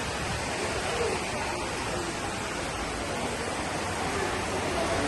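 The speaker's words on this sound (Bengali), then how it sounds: "প্রচন্ড বৃষ্টি।" Heavy rain pours in a dense, unbroken roar that stays loud and even throughout, with no other distinct sounds rising above it.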